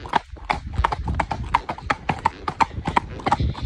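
A clean-legged, clipped, fully shod horse trots out on a hack, its hooves clip-clopping in a steady, even rhythm on a hard surface, loud and close throughout.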